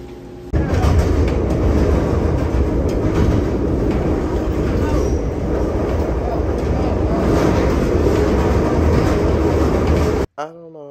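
Chicago CTA train ride, a loud continuous rumble and rattle of the rail car heard from inside over the whole stretch, ending abruptly with brief speech.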